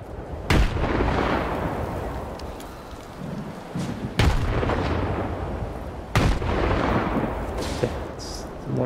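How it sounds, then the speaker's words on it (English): Grenade blasts in the video game Stalker 2 during a swamp fight, three loud booming explosions a couple of seconds apart, each trailing off into a rumbling roar. "Just throw 10 grenades or so."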